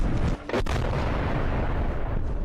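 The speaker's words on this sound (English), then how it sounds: "There's a large explosion." A loud, deep explosion from 2,000-pound GBU bunker-buster bombs rumbles on continuously with a brief dip in sound early, dense low-end roar throughout, amid air raid sirens.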